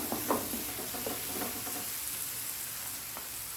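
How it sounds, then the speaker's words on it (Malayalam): Sugar-free carrot halwa is stirred in a pan, a steady close sizzle with soft scraping strokes of the spoon early on, then a more even hiss, moderately quiet and with no talking. "1 മിനിറ്റിന് ഇടയ്ക്കിടയ്ക്ക് ഇങ്ങനെ ഇളക്കുക"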